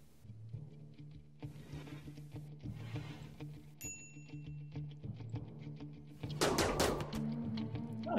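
Gunfire during a raid in the video game RimWorld, with repeated small shots over a steady background score, ending in a louder, denser burst near the end.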